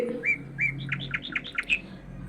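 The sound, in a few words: sparrow chirping anxiously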